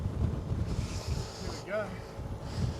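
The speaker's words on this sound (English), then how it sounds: "The wind is picking up." Wind blowing outdoors on a hill during a Subaru Forester XT offroad climb, steady rumbling gusts buffeting the microphone, with a brief whistling tone partway through.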